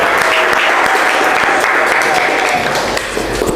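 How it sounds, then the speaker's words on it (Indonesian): A classroom of students applauds a presenting group, a dense, even clapping that stays loud and close for the whole stretch. "kita berikan aplaus ke kelompok 5"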